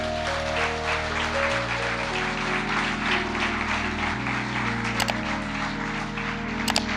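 An audience at an event gives a steady crowd applause for Diamond and above leaders. Sustained music tones play under the applause, and a few sharper bursts stand out near the end.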